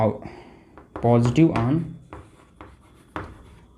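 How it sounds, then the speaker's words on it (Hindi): A pen scratches on a writing surface during a Hindi biology lecture, giving a few short strokes and taps close to the microphone, mixed with and partly under the lecturer's speech. "तो लिख लेते हैं हम कि"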